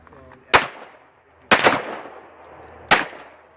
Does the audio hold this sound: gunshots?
yes